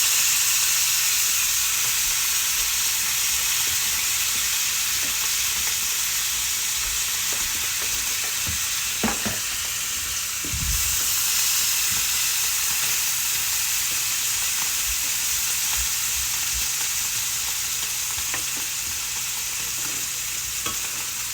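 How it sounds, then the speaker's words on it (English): Sauteed peppers and onions for a Philly cheesesteak sizzle steadily in a hot pan, a constant close frying hiss with occasional stirring scrapes and thumps. "Some of the sauteed peppers and onions"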